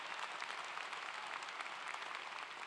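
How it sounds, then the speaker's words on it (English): At a university undergraduate commencement ceremony, a large audience applauds in a dense, even roar of clapping heard from a distance, sustained throughout without talk. "So please give a round of applause for President Joe."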